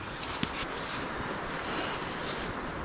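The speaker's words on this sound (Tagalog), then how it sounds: "grabe ang hangin." Strong wind at a remote wild campsite around sunset roars steadily across the microphone in a continuous broadband rush, with a brief louder gust or buffet near the start.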